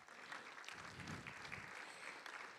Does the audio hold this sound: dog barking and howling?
no